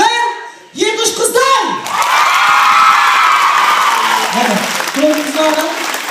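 Loud, sustained clapping and cheering from a big audience at a Kazakh Zhaidarman comedy show in Taraz, opening with a short burst of shouting voices before the applause swells into a dense, steady roar.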